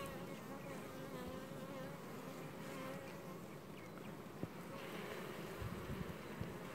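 Honeybees buzz steadily around a hive during swarm handling, a dense continuous hum of many insects close by with a few faint knocks and no talk.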